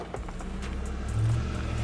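Pickup truck in standard four-wheel drive climbing a rocky off-road obstacle, a steady low engine drone that swells louder toward the end with a rough, rumbling undertone.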